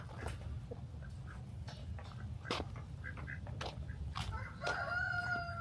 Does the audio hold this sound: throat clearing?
no